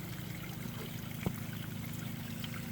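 Water trickles and splashes steadily down a small koi pond waterfall lined with batting, a continuous close wash of sound with one brief splash partway through.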